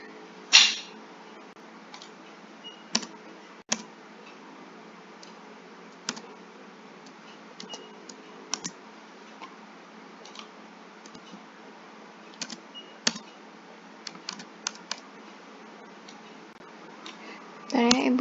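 Sparse, faint key taps from a computer keyboard while text is typed and deleted, scattered clicks over a quiet hum.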